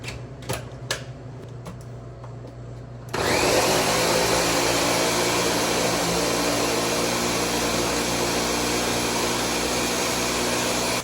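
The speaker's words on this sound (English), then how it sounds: "figure out how to use the blender." A blender whirs into a loud, steady, high-speed roar as it purees fresh tomatoes into sauce, starting abruptly after a few quiet seconds of faint clicks and running continuously to the end.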